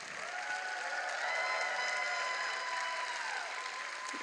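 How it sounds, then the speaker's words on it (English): A graduation ceremony audience applauds the doctoral graduates, a steady wash of many hands clapping with some crowd noise, sustained at even loudness throughout with no speech over it. "let's give a big round of applause to all of our graduates"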